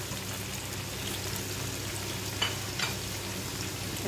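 Onion and carrot frying in oil in a pan, a soft continuous sizzle with a couple of brief spatters or stirring clicks, steady and fairly quiet throughout.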